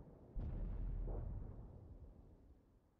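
A tank's ammo rack detonates in a tank battle game, a single deep, muffled blast that booms out and then slowly rumbles away, faint and with no voices.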